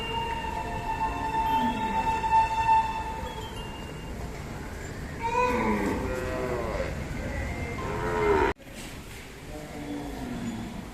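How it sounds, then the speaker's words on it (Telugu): Cows and calves at a cow protection shelter moo repeatedly, long low calls overlapping one another at close to moderate range, with faint human voices in the background. "చూడండి లేగ దూడలు"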